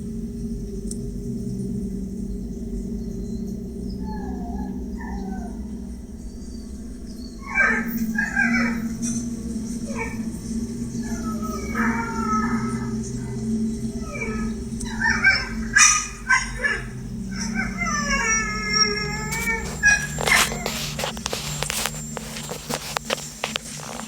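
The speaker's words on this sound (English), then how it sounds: "Her dog was barking at seemingly nothing" At 4 in the morning a small female dog barks in bursts, with yips and whimpers between quieter gaps, close and loud over a low background hum, with louder barking near the end.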